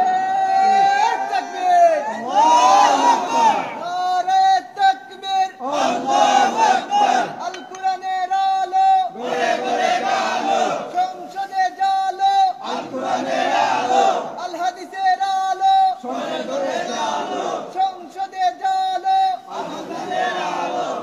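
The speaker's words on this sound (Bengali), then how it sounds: "দুহাত উঁচু করে স্লোগান দিয়ে আল্লাহর দেখান।" A large crowd at an Islamic religious gathering (mahfil) chants slogans in loud, rhythmic bursts answering one another, repeated about eight times with short pauses between, close and forceful.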